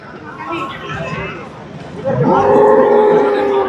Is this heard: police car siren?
no